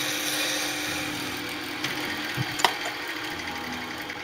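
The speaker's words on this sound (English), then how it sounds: "So 6mm drill securely clamped so it can't turn, drill lined up with the centre of the hole." A 6mm drill bores through two pieces of taped-together wood, giving a steady whirring grind throughout with a couple of small knocks near the end.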